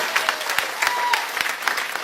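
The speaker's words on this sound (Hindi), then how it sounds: "जबरदस्त ताली बजाएंगे" A crowd claps steadily, a dense burst of applause that stays even and fairly loud throughout.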